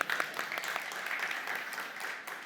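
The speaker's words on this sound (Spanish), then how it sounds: "Denle un aplauso al hermano." A church audience applauds a brother, a short burst of scattered clapping, fairly quiet and a little distant, with no talk over it.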